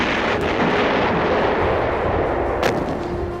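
Warship main guns firing in a naval battle at sea, a dense continuous roar of heavy cannon blasts and rumbling booms, loud and close, with a sharper crack standing out near the end.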